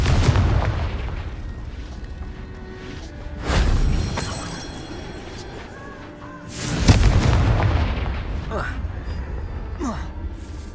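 Confringo fire spell cast in the Hogwarts Legacy video game, with two loud booming blasts about three seconds apart over a steady game backdrop, each swelling and then fading into rumble.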